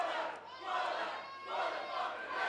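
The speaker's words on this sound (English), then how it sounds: "This Glasgow crowd very much behind, more than hype" A Glasgow wrestling crowd roars and cheers in swelling waves, loud and sustained, rising and falling a few times in quick succession.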